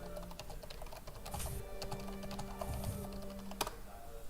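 Typing on a computer keyboard, a quick irregular patter of soft key clicks at close range over faint room hum, with one sharper tap near the end and no talking.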